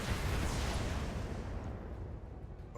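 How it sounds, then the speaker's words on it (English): Missile volley from a BattleMech in the BattleTech video game: a loud, dense roaring burst of rocket blasts that rumbles steadily for a few seconds and then eases slightly. "Let's not use the AC-10. Just use the missiles."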